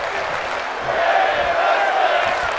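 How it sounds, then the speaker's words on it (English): A virtual crowd roars and applauds steadily in a wrestling video game, a dense continuous wash of cheering and clapping at high volume. "And the crowd is loving it."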